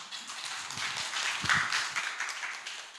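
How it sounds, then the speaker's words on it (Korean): Audience clapping for a guest speaker, a Hanbat University professor, at a regional startup ecosystem summit, a steady moderate patter of hands through the whole stretch with a few louder claps standing out. "큰 박수로 부탁드립니다."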